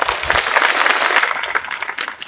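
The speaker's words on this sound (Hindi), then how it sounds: "समर्थन करते हैं तो ताली बजाएंगे।" An assembly audience at an interstate representative gathering on the Sarna religion code demand applauds in support, a broad wash of many hands clapping that is loud at first and then slowly thins out.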